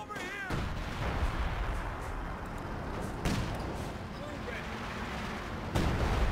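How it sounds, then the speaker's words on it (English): Anti-tank gun firing in Company of Heroes 2 amid battlefield din, with several sharp booming reports spaced a few seconds apart over constant rumble while someone commentates throughout. "AT gun gets a good shot on the 222."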